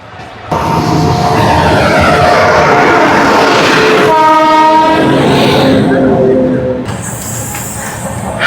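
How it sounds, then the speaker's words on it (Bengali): The NJP Paharia Express rumbles into a station loudly and close, its horn blaring in long tones over squealing brakes and clattering wheels. "এটা ট্রেন আমাদের ঢুকছে একদম রাইট টাইম"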